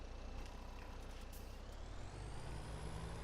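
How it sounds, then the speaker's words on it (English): A farm truck is moved back into place, its engine a steady low rumble close by with a brief air-brake hiss, and no talk. "Now we can put the truck back in place properly."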